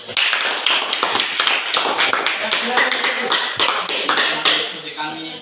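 A classroom group gives a round of applause for the first presenting group, a dense patter of hand claps running steadily throughout, with some voices mixed in.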